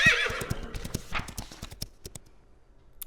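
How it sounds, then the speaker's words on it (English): A horse whinnies over a run of steady clip-clopping hoofbeats, clear and close, as an animal sound effect in a children's picture-book reading. "Nay," said Horse"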